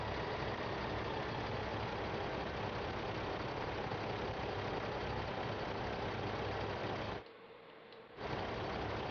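A tractor engine in Farming Simulator 15 drones as a steady, dense rumble that runs continuously, briefly cutting out for about a second before resuming.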